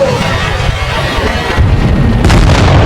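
A tank cannon firing in World of Tanks produces a very loud, heavy boom over a deep, sustained rumble, with fresh blasts swelling in about halfway through and again near the end.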